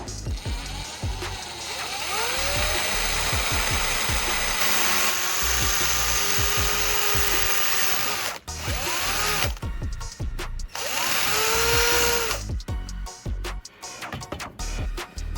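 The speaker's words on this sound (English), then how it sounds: "Next, I'll grab the drill and carefully bore a hole straight to the center." Power drill boring a hole through the center of a cardboard workpiece, its motor whining in bursts with short pauses and a steady high pitch, close and loud throughout.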